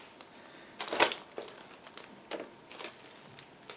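Thin plastic bags crinkle as sprues of a Meng 1/35 M1A2 TUSK tank model kit, including clear visor parts, are unpacked: close, intermittent rustles with a sharper crackling burst early on, no voices.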